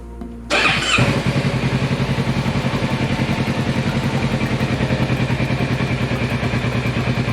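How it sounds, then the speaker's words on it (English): A warmed-up motorcycle at its 600-mile service fires up with a brief clatter, then settles into a steady, fast, even idle that stays loud and close throughout, with no voices. "You want to check idle speed once the bike is warm."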